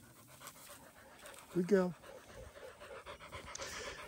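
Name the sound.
dog panting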